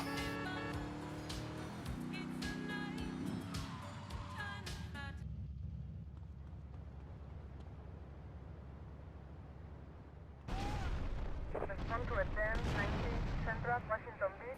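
Grenade explosions in Grand Theft Auto: Vice City aimed at security guards, booming blasts with game noise under talking commentators, a quieter rumbling stretch in the middle, then sharper bursts at the end.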